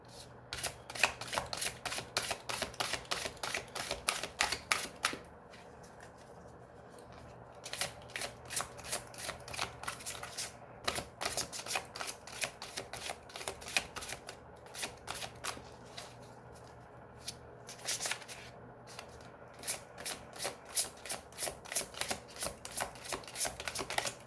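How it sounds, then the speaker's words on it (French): Béline tarot cards being shuffled by hand, a long run of rapid, crisp riffling flicks in steady bursts with brief pauses between rounds, close and clear without talk. "Nous allons maintenant passer au tirage général avec les cartes Béline."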